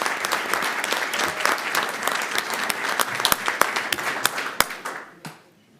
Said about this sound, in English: give one more round of applause for these young people and the coaches